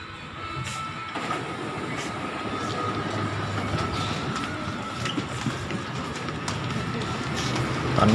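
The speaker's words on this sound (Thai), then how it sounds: "นี่ครับ รถไฟก็มาแล้วนะครับ รถไฟฟ้าใต้ดิน" A subway train rumbles and clatters steadily nearby, with mechanical whine and rhythmic clicks as it arrives and runs through an underground MRT station in Bangkok.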